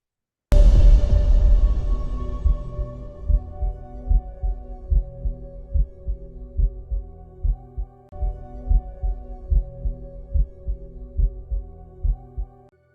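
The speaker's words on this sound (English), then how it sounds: "you're going to hear a heartbeat sound, like a loud heartbeat" Loud, deep heartbeat effect from a horror movie trailer, booming in a steady double-thump rhythm for over ten seconds after a heavy opening hit, with no talk over it.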